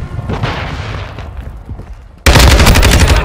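Video game gunfire that starts abruptly after quieter clattering, becoming a loud, sustained stream of rapid shots through the final second.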